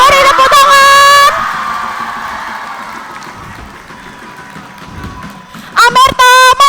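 A school audience at a student council candidate debate at MTsN 1 Kota Kediri claps and cheers for the election candidates, a steady crowd roar between loud amplified announcer speech at the start and end.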